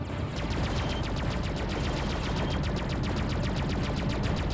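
Rapid gunfire in the space-combat game Freelancer, a fast, evenly spaced burst of shots firing continuously at enemy ships, loud and steady throughout.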